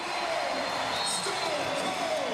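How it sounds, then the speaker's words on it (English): An arena crowd at a lacrosse playoff final, Georgia Swarm against Saskatchewan Rush, keeps up a loud, steady roar that fills the whole clip without a break. "this crowd has been loud all game, but they've just ramped it up"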